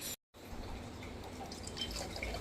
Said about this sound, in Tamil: இப்போ நம்ம டம்ளரில் ஊற்றிக்கலாம்.